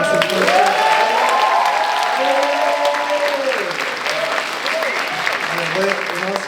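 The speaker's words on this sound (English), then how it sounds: "Can we just get like a round of applause" Graduation ceremony audience applauding steadily and loudly for the full stretch, a dense continuous clapping with some crowd noise and cheering mixed in.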